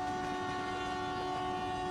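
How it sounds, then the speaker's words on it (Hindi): A loud, sustained train horn sounds in a train simulator game on a Hajipur route, holding a steady tone for about two seconds with no voices over it. "हॉर्न बजाते हुए हम लोग जाएंगे"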